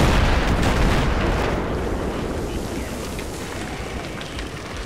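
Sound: explosion in Battlefield 3 video game, Metro Rush

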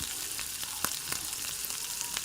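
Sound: urad dal frying in oil

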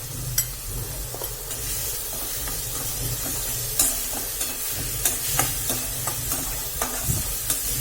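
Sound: onion frying in oil with turmeric

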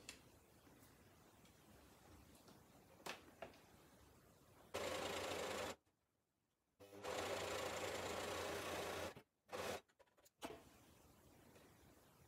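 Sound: sewing machine stitching along the top edge of fabric flags

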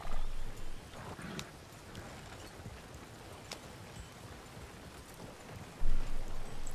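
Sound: horse-drawn coach hooves clip-clopping in a Wild West video game

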